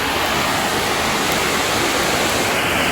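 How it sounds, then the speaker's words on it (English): Swollen river rushing loudly past a village waterfall after heavy rain, a steady, dense roar of water filling the whole clip with no voices. "there's a lot of water in the river"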